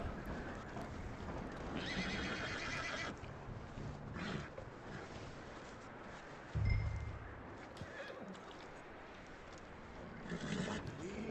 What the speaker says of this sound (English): This is not a wild horse, so you don't have to do much,